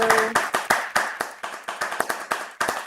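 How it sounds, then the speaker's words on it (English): Applause from a small audience closing a fireside chat at a Lunar New Year celebration, sparse and uneven clapping with distinct individual claps rather than a dense roar, moderately close. "Let's do one final big round of applause for Karen X Cheng in this beautiful place."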